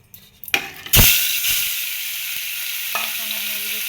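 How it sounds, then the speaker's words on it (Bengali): Pieces of rohu fish drop into hot oil in a pan with a sudden loud hiss, settling into a steady, bright sizzle after a few small knocks. "এখন আমি এর ভিতরে দিয়ে দিলাম মাছ।"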